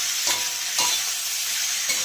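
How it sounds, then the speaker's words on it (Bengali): Fish stirred in a wok with salt and turmeric, a soft steady sizzle broken by a few distinct scraping strokes of the spatula, fairly quiet and close, with no talk. "দিয়ে এবার এটাকে আরেকটু কড়াইতে নাড়া দিয়ে নেব"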